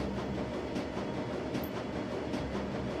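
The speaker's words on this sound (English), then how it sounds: "The train is speeding towards the Crowd's Bazaar station." A train runs steadily on rails in the video game Shadowrun Dragonfall, a continuous loud rumble with faint rhythmic clatter and no voices.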